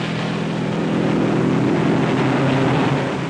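Supercharged V8 Novi Special race car at the 1957 Indy 500, a continuous loud, dense engine roar with a low droning tone, steady throughout and heard alone.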